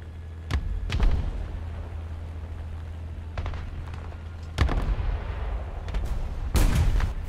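Dropped aircraft bombs in War Thunder go off as sharp, booming blasts, several spaced apart over a steady low engine drone. The final burst is the loudest.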